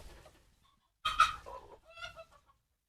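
Large, sturdy free-range hens cluck in a sunny banana garden, a few close bursts of clucking with short pauses between them.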